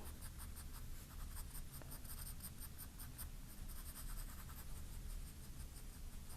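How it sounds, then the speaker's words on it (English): A 2B Staedtler graphite pencil shades a general tone across paper in quick back-and-forth strokes, giving a faint, continuous, scratchy rasp with no talking. "with the 2B how nice it is to fill in, you know, like a general tone over it"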